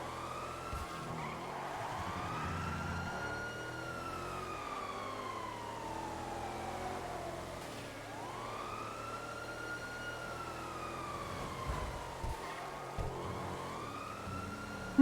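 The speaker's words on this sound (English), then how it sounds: "I'm fucking with the siren sounds." A police siren wails in a roleplay video game, long rising and falling sweeps repeating in slow cycles over a rumbling engine and road noise, steady at moderate loudness with no talking.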